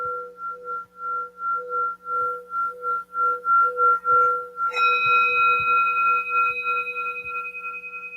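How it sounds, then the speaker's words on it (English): A singing bowl in a yoga class gives a sustained, pulsing ring with a wavering beat, then is struck again, adding a brighter shimmering tone that slowly fades. "At the third sound of the bowl"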